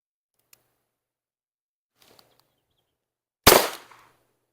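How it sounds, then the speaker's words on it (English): A single revolver gunshot cracks out loud and close at about three and a half seconds, decaying quickly, after a few faint clicks and handling noises in an otherwise quiet outdoor setting. "So I'm gonna do just one shot right now, just to kind of see how I can handle the recoil"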